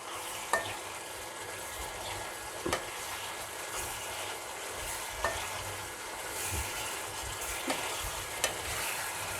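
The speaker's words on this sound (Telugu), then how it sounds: "కలిపేద్దాం." Drumstick milk curry is stirred in a pan: soft, scattered scrapes and taps of a spoon over a faint, continuous low sizzle, quiet and close.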